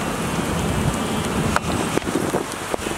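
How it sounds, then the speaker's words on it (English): Heavy rain pours down on a New York City street, a dense steady hiss of drops close by, broken by a few sharp thuds and knocks, with no talking. "It's actually pouring down heavier."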